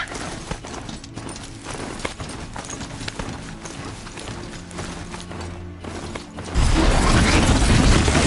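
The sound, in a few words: mechanical strider mount running in video game Horizon Zero Dawn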